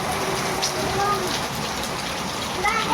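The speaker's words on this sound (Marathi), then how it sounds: "बघू शकताय पाऊस किती मोठा आलाय" A heavy downpour drums steadily and loudly, with someone speaking faintly beneath the rain.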